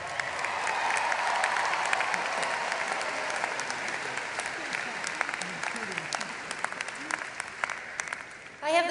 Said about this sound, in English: give yourselves a round of applause, graduates, because you did it!